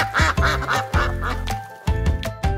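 A toy duck quacks several times in a row amid a bright, musical background with harmonic tones, the quacks close and prominent with short pauses between bursts.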